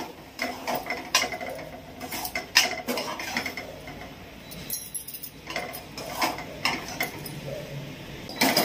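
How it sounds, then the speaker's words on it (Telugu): Spoon stirring a thickening Telugu festival prasadam mixture in a pan, giving repeated close scraping and clinking taps against the metal in an irregular rhythm, with no voices. "ఇంకా కొంచెం దగ్గరకు వచ్చేంత వరకు ఇలా కలుపుకోవాలి"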